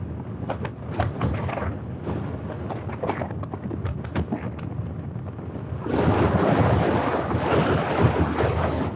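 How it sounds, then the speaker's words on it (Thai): Strong wind roars across a roadside in Nan province, Thailand, buffeting the microphone in heavy gusts that turn into a denser, louder rush in the final few seconds. "เสียงลมดังมากเลยนะ"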